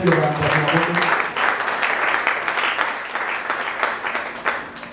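A church congregation breaks into sustained applause during a French-language sermon on family, dense clapping filling the room with a voice briefly heard over it at the start.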